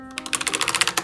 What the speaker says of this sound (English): You press a bunch of keys at once